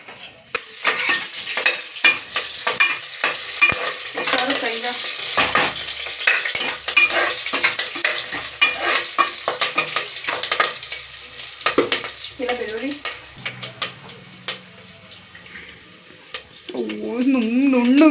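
Chopped onion and curry leaves fry and sizzle steadily in a hot pan while being stirred, with scraping and clinks over the hiss and some tap water running; a voice speaks at moments throughout.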